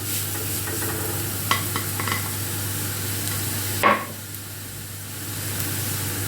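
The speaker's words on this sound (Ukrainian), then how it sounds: "Наливаємо олію з цієї сторони ми положимо ось так моркву." Carrots frying in oil in a pan give a steady close sizzle, with a few brief scrapes and stirring clatters, and no talking.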